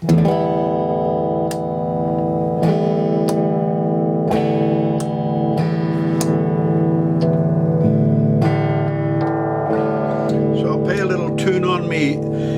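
An Epiphone ES-339 electric guitar, freshly repaired after a broken neck, rings out in sustained chords and picked notes with clear attacks, loud and close, with effects-like sheen and no talking.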